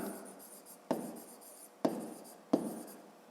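A pen writes on a notebook page during a fifth-grade math exercise, a soft steady scratching punctuated by three sharp taps as strokes begin, close and quiet.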